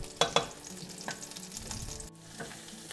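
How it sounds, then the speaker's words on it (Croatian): Chopped onion sizzles briefly in a hot pan, a soft, close frying crackle with a couple of sharp stirring clicks near the start, quiet overall with no voices. "Tu ću da istresem narezan luk. I to ćemo sada fino da propržimo kratko."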